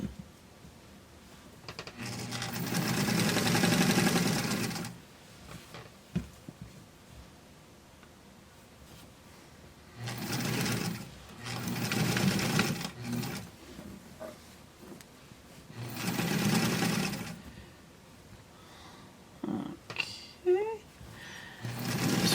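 A sewing machine stitches a seam on American Girl doll clothes in several short, loud bursts of rapid whirring, separated by quiet pauses with faint rustling and handling sounds.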